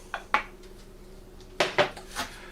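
A spoon stirs melted butter and cookie crumbs in a bowl, making two clusters of brief scraping clinks against the dish with a quiet pause between, close and moderately loud.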